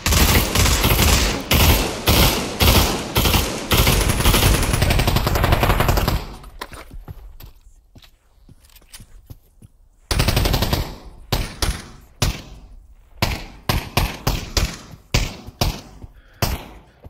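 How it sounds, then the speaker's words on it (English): Rapid automatic gunfire in the VR shooter Pavlov VR, loud close bursts of shots for about six seconds, a quieter stretch with scattered distant shots, then renewed sharp firing. "They're shooting at me."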